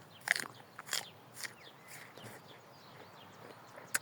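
Close, crisp bites and chewing of a crunchy, juicy, sour apple-like fruit, with several sharp crunches spaced across a few seconds and no talking.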